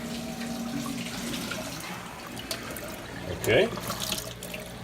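A Frigidaire portable dishwasher runs a normal wash cycle with a steady rush of spraying and running water close by, a brief louder splash partway through, and a voice speaks briefly.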